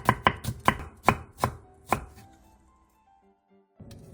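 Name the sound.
knife chopping green onion diagonally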